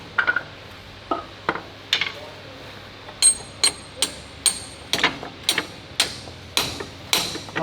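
Hammer blows ring out in a workshop while an old vehicle is being worked on, a series of sharp metallic strikes, a few spaced out and then a quicker regular run of about a dozen, fairly close and clear.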